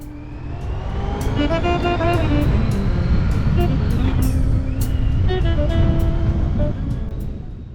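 A motorcycle rides on a road in Spain after a fuel stop. The loud, close engine note climbs through the gears, rising and dropping at each shift, over steady wind rush, with no talk.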